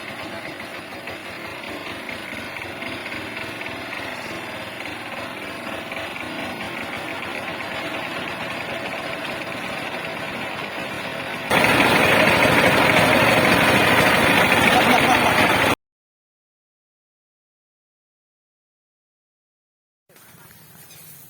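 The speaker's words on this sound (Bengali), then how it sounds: "আজকে হচ্ছে আমার জীবনের ফার্স্ট টাইম এই যে পাওয়ার টিলার চালাচ্ছি" A power tiller engine runs steadily with a rough, droning chug, close by. It grows louder for a few seconds, cuts out to silence, then the engine noise returns.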